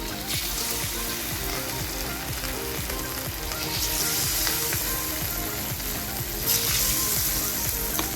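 Idli pieces dipped in a spice paste sizzle and crackle steadily as they fry in hot oil, a dense close-up hiss that swells louder partway through and again near the end, with no talking.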